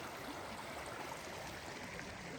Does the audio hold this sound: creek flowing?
yes